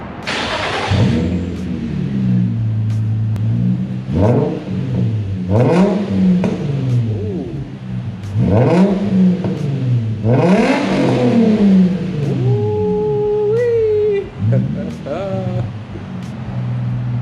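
Infiniti G35 with its muffler deleted revving loudly and repeatedly, each throttle blip rising and falling in a steady rhythm, heard up close with a brief faint whistle-like tone near the end.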